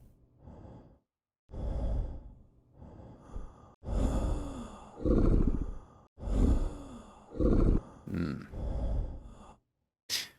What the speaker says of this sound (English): I'm just gonna listen to your breathing.